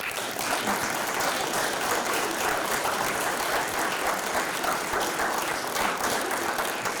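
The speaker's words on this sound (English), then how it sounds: "I think that they all deserve a round of applause" An audience at a Vermont town meeting in Fayston claps in a steady, even round of applause lasting several seconds, a moderately loud indoor patter with no voices over it.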